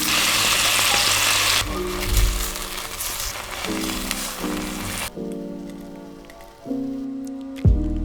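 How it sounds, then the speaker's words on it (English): Ham sizzling and frying in melted butter in a pan over low to medium heat, a steady crackling hiss with occasional tonal clinks and scrapes, no voices. "Gently roast the ham until both sides are shiny and roasted."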